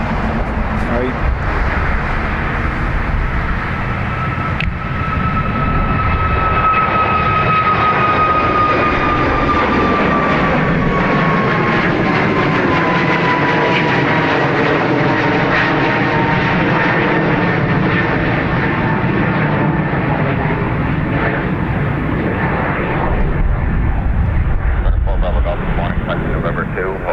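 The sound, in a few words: Ryanair plane taking off from Dublin Airport to Manchester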